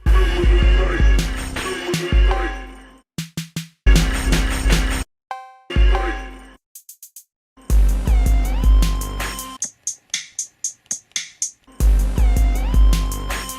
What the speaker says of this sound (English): classic drum machine kit from GarageBand